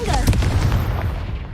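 The Confringo fire spell goes off in Hogwarts Legacy as a rolling, booming blast with crackling bursts, loud and sustained through the clip.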